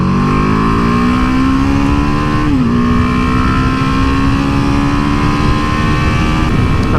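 A BMW G310GS motorcycle accelerates back to cruising speed on the road, a loud, steady engine drone with a rising pitch, a brief dip at a gear change, then a sustained hum over constant wind roar.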